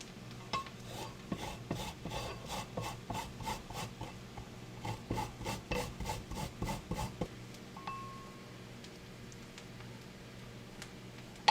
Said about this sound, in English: So we are going to grate our ginger now.